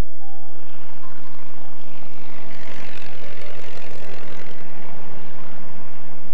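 A Moth biplane built at Morris Motors in Cowley runs its propeller engine in a loud, steady, rushing drone that holds unbroken throughout.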